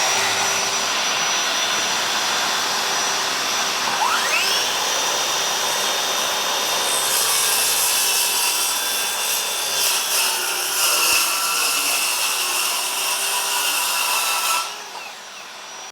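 A loud, steady whine from a Ryobi ONE+ 18V brushless cordless 7-1/4 in. circular saw cutting particle board runs continuously, with a brief higher-pitched rise partway through, before cutting off near the end.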